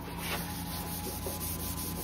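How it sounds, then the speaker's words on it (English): A scotch pad rubs back and forth across a repaired rotten wood surface, a close, steady scratchy sanding with soft rhythmic strokes and no talk. "just really sanding as much as I can"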